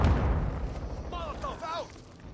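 Grenade blasts in Call of Duty: Modern Warfare II open with a heavy low rumble that slowly fades, while a few short, rising whistling tones sound over the dying boom.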